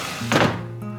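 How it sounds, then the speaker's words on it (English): A sticky drawer on an old dresser is pushed shut with a single dull wooden thunk, close by and fairly loud, with no talking over it. "This drawer doesn't close very well."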